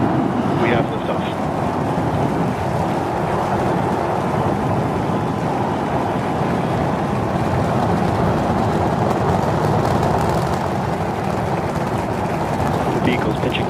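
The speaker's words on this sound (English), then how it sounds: "We have liftoff." SpaceX Starship rocket lifting off on its seventh flight test in 2025: a loud, continuous broadband roar that rumbles steadily without a break from start to finish.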